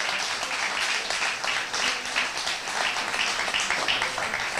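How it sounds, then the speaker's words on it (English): Sustained applause from an audience at a political party branch meeting, steady dense clapping throughout with no break, fairly loud and filling the room. "I want you to give him a big round of applause tonight."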